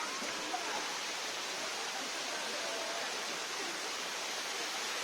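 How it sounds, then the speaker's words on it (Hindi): Ekagudi waterfall in a forest in Malkangiri gives off a steady, even rush of falling water, a faint continuous broadband hiss with no voices over it. "पूरा चारिपटे पूरा जंगल जंगल भितर गोटे वाटरफॉलटा उद्भावित होती।"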